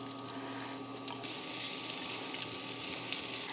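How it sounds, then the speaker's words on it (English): Onions sautéing in a pan on an induction cooktop at half power, giving a soft continuous sizzle with a faint steady hum beneath, quiet and even throughout. "I'm sauteing these onions at half power of what this induction can do"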